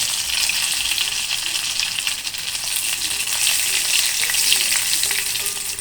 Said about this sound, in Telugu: ఎండుమిర్చి కూడా వేగిపోతున్నాయి.